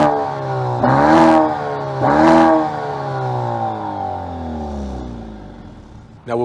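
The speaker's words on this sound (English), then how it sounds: "We should hear how some of that sounds out of its quad exhaust pipes." Maserati Grecale Modena engine revving through quad exhaust pipes, with two sharp blips followed by a long, smooth rising then falling rev that drops away, loud and close.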